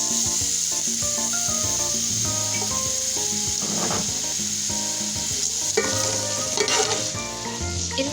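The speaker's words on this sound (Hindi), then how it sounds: "अब तेल गरम हो चुका है, मैं इसमें प्याज डाल रही हूँ।" Sliced onions sizzle in hot oil with a bright, constant hiss, while a spoon scrapes and stirs them around the pan close by.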